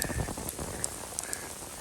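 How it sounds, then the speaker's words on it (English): Hail falling in a forest, a dense patter of ice hitting leaves and ground with a few sharper ticks standing out, steady and fairly quiet. "it's hailing."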